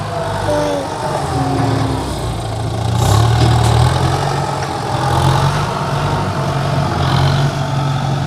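A vehicle engine idles with a steady low rumble, swelling slightly louder for a moment before settling back to an even drone.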